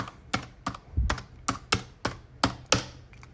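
Nine or so crisp key taps on a computer keyboard as a password is typed, spaced fairly evenly at a steady moderate pace, close and clear in a quiet room.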